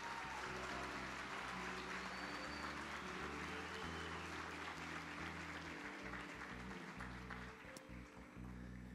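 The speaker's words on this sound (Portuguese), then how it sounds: "Uma salva de palmas aos nossos irmãos." A church congregation applauds newly received members at a Christmas musical and baptism service, a steady, dense wash of clapping that fills the whole stretch at moderate distance over a low sustained musical hum.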